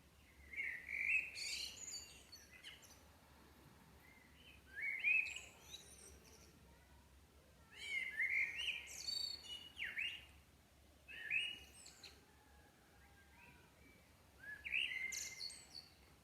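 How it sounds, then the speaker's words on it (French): A blackbird sings in short, fluting phrases separated by pauses, somewhat distant and soft against a quiet outdoor background. "écoutez le chant du merle noir"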